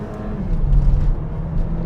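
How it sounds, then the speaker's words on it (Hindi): A car rated at about 150 HP and 250 Nm accelerates hard toward 100 on an Indian road, a low engine drone rising briefly in loudness from inside the cabin. "आवाज़ देखो इसकी, ये गाड़ी फिलहाल अपनी 100 चढ़ गई"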